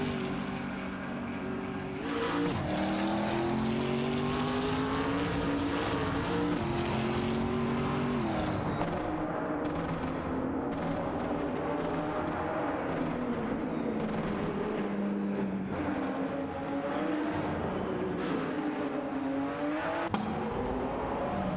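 Race cars including a McLaren MP412 and a Koenigsegg Agera RC roar through an AI racing video game, a dense continuous engine drone with rising and falling pitch sweeps and sharp shifts, loud and sustained throughout.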